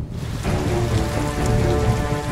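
Torrential rain pours steadily and heavily in western Pennsylvania, a dense continuous hiss of drops close by with no voices.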